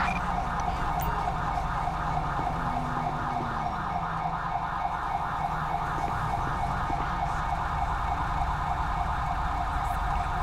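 A wailing ambulance siren in Grand Theft Auto V sounds continuously, steady and fairly loud over a constant low engine-like hum, with no speech.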